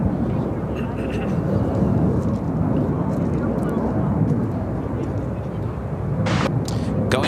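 An Air Wisconsin CRJ200 LR regional jet taking off at Chicago O'Hare, a continuous broad jet rumble throughout with short crackling bursts near the end.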